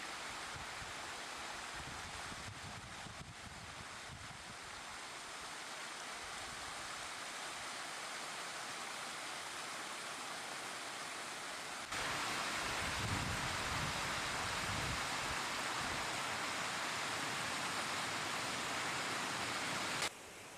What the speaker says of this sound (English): the Fortescue Falls are gushing down over the rock steps